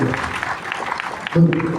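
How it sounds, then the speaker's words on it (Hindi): An audience claps briefly at a Friday evening session at Governor House, a short burst of applause close by with a voice and a sustained tone cutting in near the end. "तो भाई तालियां हो गई"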